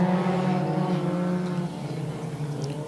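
Several IMCA sport compact race cars roar on a dirt off-road speedway at the green flag, steady loud engine drone with strong harmonics, easing slightly toward the end, no talk.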